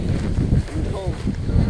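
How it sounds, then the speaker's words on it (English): Strong wind on a mountain summit roars as a steady, loud rush with buffeting gusts against the microphone, while voices talk over it. "Pretty windy."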